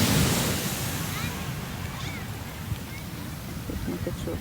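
Sea waves wash onto a busy beach in the morning at Sidi Bouzid, a steady broadband surf roar with wind buffeting the microphone and faint distant voices of swimmers mixed in.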